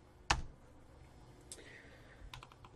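Keys on a computer keyboard are pressed in a few sharp, close clicks: one firm tap, a pause, then a short burst of quieter keystrokes.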